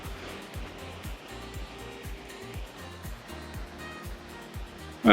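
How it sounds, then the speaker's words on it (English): Calm waves washing along the empty La Gomera coastline, a steady soft surf wash running throughout with a low rhythmic rumble, ending in a brief loud burst, likely wind on the microphone. "But the waves are actually pretty calm today."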